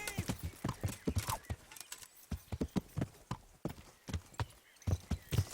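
Horse hooves clatter in a rapid galloping rhythm in the medieval video game Kingdom Come: Deliverance, fairly close and steady across the clip, with brief gaps and some vocal sounds mixed in.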